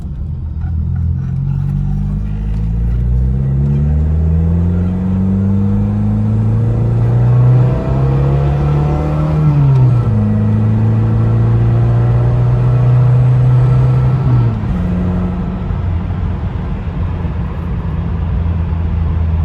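A 1982 Honda Prelude on the move, its engine droning loud and close in a steady rumble as the revs climb through the gears, dip at each shift, then settle into a constant hum, with no voices.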